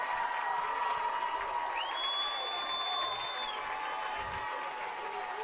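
A crowd at a high school football game between the Lincoln Wolves and the Mena Bearcats at Bob Carver Bearcat Stadium gives steady applause and crowd noise, with a high whistle-like tone rising briefly above it.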